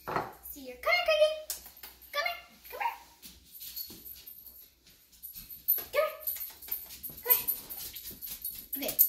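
A dog whimpers and gives high yips in a home kitchen, several short whiny cries spread across the clip, close and fairly clear, with some background clatter and a person talking in between.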